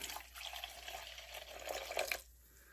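Apple cider poured slowly into a bowl set on a kitchen scale gives a soft, faint trickle and splash for about two seconds, then stops.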